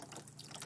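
Water runs from a garden hose into a kiddie pool, a steady close splashing hiss that continues unbroken through the short moment.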